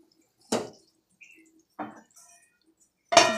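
A lid set down over a pot on a stove after the heat is switched off while making langcha, a few sharp, separate metallic clinks and knocks with quiet gaps between them, the last one the loudest.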